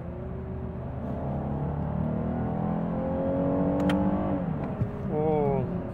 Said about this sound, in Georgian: ძრავი როგორც სტანდარტულად შეეფერება ატმოსფერულს ისე დადის.